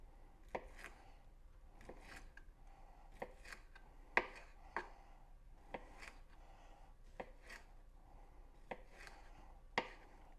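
Pre-cooked smoked sausage sliced with a knife on a board, about a dozen crisp, quiet cuts spaced irregularly, with faint rustling between them.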